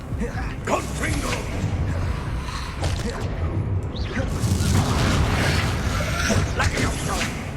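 Confringo explosion spell cast during Hogwarts Legacy combat: booming, crackling blasts and whooshes with creaking mechanical layers, dense and continuous, loud throughout, with game voices mixed in.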